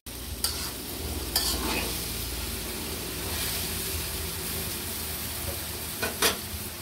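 Vegetable noodles sizzle in a pan while being mixed, a continuous frying hiss with a few sharp spatula scrapes against the metal, close up.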